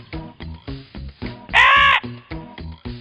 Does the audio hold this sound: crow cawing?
yes